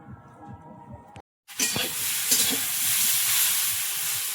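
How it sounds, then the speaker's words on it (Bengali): Green banana and tomato frying in a pan, a steady close sizzle that starts abruptly after a short silent gap and continues evenly with faint stirring clatter. "এই যে কলা ভাজতে ভাজতে কিন্তু টমেটো ভাজা হয়ে গলে যাচ্ছে"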